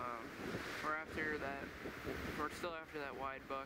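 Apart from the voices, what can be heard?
strong wind on microphone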